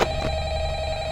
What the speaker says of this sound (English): Answer the phone!